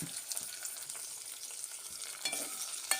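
Quiet sizzling and soft stirring in a frying pan as seasoning for tiffin sambar cooks, a faint, steady crackle with occasional scrapes and no voices.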